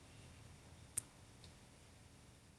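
A single mouse click, faint and short, with a softer second tick a moment later over a quiet hiss.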